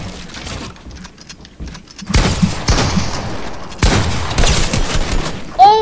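Loud, dense bursts of gunfire in a Fortnite box fight, rapid overlapping shots in two heavy volleys with brief lulls between, sounding close and harsh.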